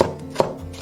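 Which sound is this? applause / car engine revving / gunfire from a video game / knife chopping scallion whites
knife chopping scallion whites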